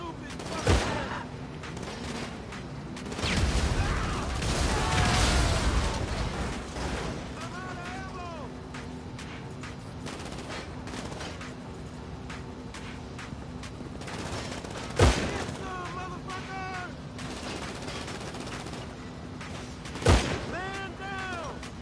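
Gunfire from GTA V: a few sharp, isolated shots at widely spaced moments, with rumbling game noise and other game sounds running between them.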